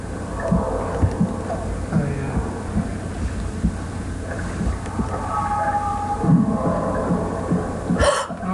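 Heartbeat sound effect in the Medusa's Labyrinth video game, a low repeated thumping pulse running steadily beneath game ambience, with players talking over it.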